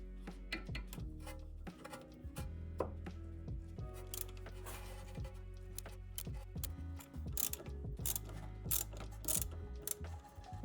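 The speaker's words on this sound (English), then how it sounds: "we have to loosen the retaining screws right there" A ratchet wrench with an extension and 5mm key loosens retaining screws on a Mercedes W220 S-Class air suspension, a rapid series of close clicking and clanking strokes with metallic knocks, irregular in rhythm.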